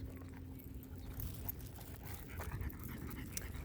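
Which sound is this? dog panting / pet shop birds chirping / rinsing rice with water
dog panting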